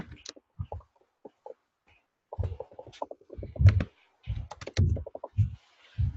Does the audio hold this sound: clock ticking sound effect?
no